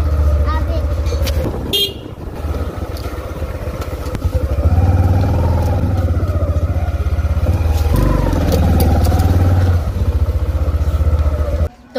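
Motorcycle engine running steadily while the rider vlogs from the bike on a road, a loud continuous low drone with a brief horn-like blip early on and someone talking over it throughout.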